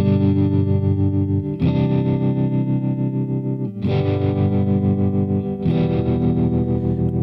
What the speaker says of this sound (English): Next up, you got tremolo.